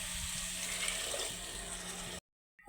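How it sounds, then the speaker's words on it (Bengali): Water pours steadily into a pot of ghugni, a dried-pea curry, giving a continuous splashing rush for about two seconds before cutting off abruptly. "এবার পরিমাণ মতন জল দিয়ে দেবো"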